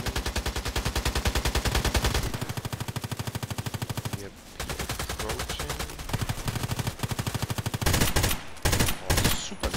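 An M4A1 Custom rifle in the shooter Contract Wars fires loud, rapid full-auto bursts, close and dense with steady rhythmic shots, broken by a brief pause and resuming with heavier volleys; a voice speaks briefly over the gunfire.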